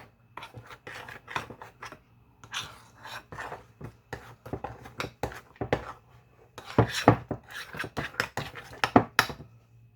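Taco dip and sour cream stirred in a bowl, giving a steady run of close scraping and tapping strokes of a utensil against the bowl, irregular and busier toward the end.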